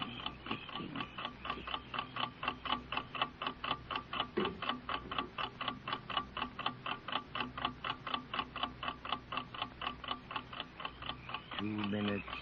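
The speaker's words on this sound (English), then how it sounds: "Is the clock ticking too fast?" A clock ticks steadily and evenly throughout a radio drama scene, its close, regular ticks dominating, with a voice speaking faintly beneath it at moments.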